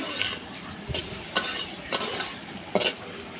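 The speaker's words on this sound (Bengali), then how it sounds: "পেঁয়াজটা এখন সুন্দর করে ভেজে নেব" Onion frying in oil with cinnamon, bay leaf, cardamom, whole garlic and cumin over a clay stove, a continuous sizzle broken by several sharp stirring scrapes at irregular intervals, close and clear.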